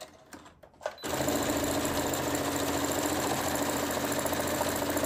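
A sewing machine stitching a wig cap starts up after about a second of quieter handling noise, then runs in a steady, loud, fast mechanical whir with no talking.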